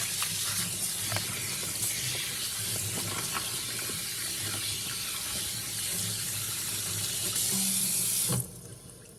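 Water runs steadily from a kitchen tap while produce is washed, a loud continuous splashing rush that cuts off abruptly near the end.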